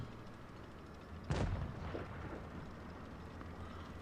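A single deep boom from a tank destroyer's gun in World of Tanks Blitz firing an APCR round, sharp onset then rolling decay over steady game ambience.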